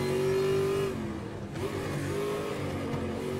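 Ford Mustang IMSA GTO racing engine in the Raceroom game at Mid Ohio, revving hard, easing off briefly, then pulling back up with a steady throttle drone and no talking.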